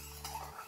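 A spoon stirs yeast and sugar into warm water in a bowl for bazlama dough, giving a brief, soft clinking and swishing close by, with no talk.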